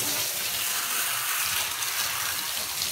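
Water runs steadily onto freshly washed wavy hair, a continuous broadband hiss and splash close by with no pauses and no talking.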